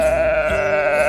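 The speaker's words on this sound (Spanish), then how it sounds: "La oveja." A sheep gives one sustained, wavering bleat that is loud and close and carries on through the whole moment, without any talk over it.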